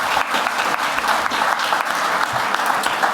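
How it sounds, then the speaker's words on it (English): Loud, close audience applause at a foreign policy panel event, a thick continuous wash of many hands clapping without pause. "Please, again, ladies and gentlemen, a huge round of applause."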